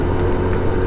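Kawasaki ZX10R motorcycle given a light throttle blip, a brief dense low engine roar up close, steady and loud for under a second.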